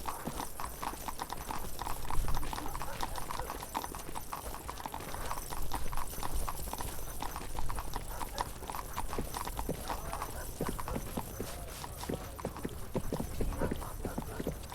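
Horse hooves clip-clop steadily in the medieval video game 1428: Shadows over Silesia, a continuous rhythmic trot close by with an occasional whinny, running for the whole stretch.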